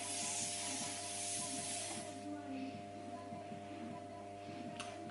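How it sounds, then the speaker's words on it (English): Hairspray is spritzed onto a twisted top knot hairstyle in a close, continuous hissing burst lasting about two seconds, then fading into quiet room noise. "what I'm gonna do next is spritz it with hairspray"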